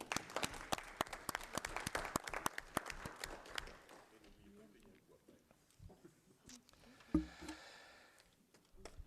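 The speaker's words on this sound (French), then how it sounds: "officiellement installé dans notre conseil communautaire sous les acclamations du conseil" Council members at a French community council meeting applaud in a steady burst of close indoor clapping that fades out after about four seconds, followed by scattered movement and a few knocks in the quiet room.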